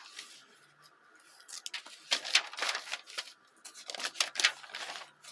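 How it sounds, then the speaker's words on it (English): Soft crinkling and rustling of delicate vintage catalogue paper, with a few brief crisp bursts suggesting a slight tear, close and quiet with no talking. "I just heard a tiny bit of a tear."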